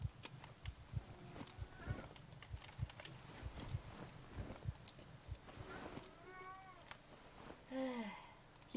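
A pet cat meows several times in a row near the end, short rising-falling calls heard close by, following a stretch of soft thumps and shuffling in a quiet room.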